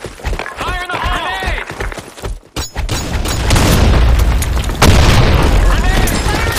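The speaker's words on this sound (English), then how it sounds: "Fire the grenade." Grenade explosions in a video game: deep, booming blasts with rumbling aftermath, loud and close, following earlier game voice and effects.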